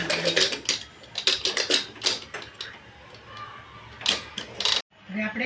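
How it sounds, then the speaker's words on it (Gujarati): Pressure cooker lid being shut in a home kitchen: several close metallic clicks and clacks of the lid twisting and locking, ending in a firm clunk, with a voice talking in between. "કુકરને બંધ કરી દઈએ"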